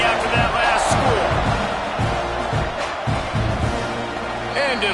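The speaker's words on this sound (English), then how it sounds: "this crowd is buzzing after that last score" A stadium crowd in the video game NCAA 26 college football buzzes and cheers in a steady loud roar after a score, with a commentator talking over it.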